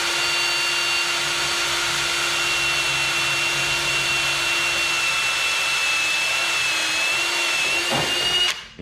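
A power drill with a small bit bores holes into the corners of square openings on a broken leaf vacuum, running as a loud steady whine close by, then winding down abruptly at the end.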